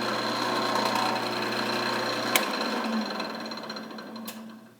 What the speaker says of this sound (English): I got the lathe turned down as low as it'll go, which is about a little under 600 RPM.